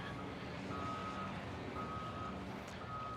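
Faint, evenly spaced reversing beeps from a construction vehicle at an RV resort sound repeatedly in the distance over a low rumbling engine.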